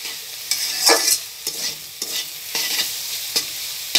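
Red amaranth greens fry in a pan with a continuous close sizzle, broken by regular scraping stirs about every half second. No one speaks.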